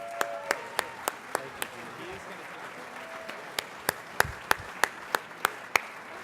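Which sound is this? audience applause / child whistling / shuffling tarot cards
audience applause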